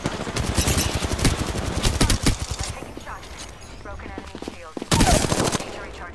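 Rapid bursts of video game gunfire crack out in dense volleys, loud and close, pausing midway before another sharp burst near the end, as a match closes out.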